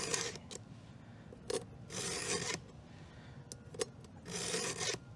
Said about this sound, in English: now I'm gonna do the count on this side and I'll start filing